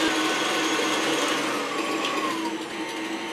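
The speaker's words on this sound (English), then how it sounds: "We're going to mix that up well so it becomes nice and smooth." Blondie batter with vanilla and whiskey being beaten by an electric mixer, a steady, loud whirring drone that holds evenly throughout, with no talking.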